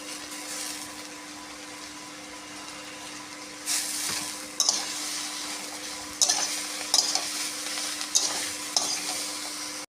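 Soybean chunks and salted pumpkin leaves are sautéed in a pan, with a steady frying sizzle and repeated stirring scrapes growing louder in the second half, close and without speech.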